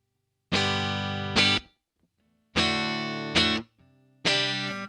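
Electric guitar run through a Valeton GP-5 multi-effects preset with distortion, reverb and delay, playing three loud sustained chords, each cut off and followed by a faint echoing trail that fades away.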